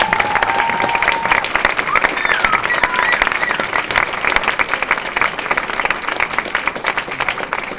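An audience applauds artists and an organiser at a French-language art event, producing dense, sustained clapping that stays loud and even for several seconds with no break.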